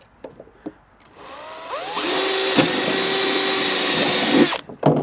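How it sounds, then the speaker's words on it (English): A power drill with a 5/16 bit bores a hole through a boat cooler, a whining motor spinning up after a few light knocks, then holding a steady, loud drilling whir for about two and a half seconds before stopping. "I'm going to drill through it first with my 5/16"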